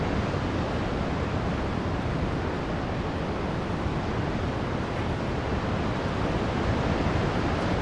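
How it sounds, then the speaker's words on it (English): Qiantang River tidal bore waves roll in as a broad, constant roar of rushing water, loud and unbroken like heavy surf, mixed with some wind noise. "appreciate the magnificent view of the Qiantang"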